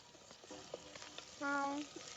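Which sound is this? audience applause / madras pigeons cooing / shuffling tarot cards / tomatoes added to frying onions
tomatoes added to frying onions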